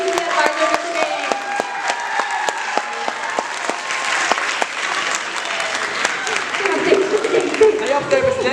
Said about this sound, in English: So let's give a round of applause for our CBC advisor, Mr. Dane.